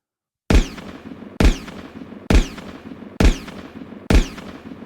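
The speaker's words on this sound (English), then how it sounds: "5 gunshots exploded through the evening air." Five loud, sharp gunshot blasts crack at an even, steady rhythm, each followed by a brief echoing decay, with silence before the first shot and no voices.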